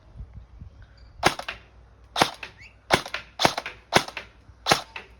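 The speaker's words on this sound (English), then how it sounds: "I'll take a few shots in semi." A Honeybadger rifle fired in semi-automatic, six sharp, loud reports spaced irregularly about half a second to a second apart, with no talk between them.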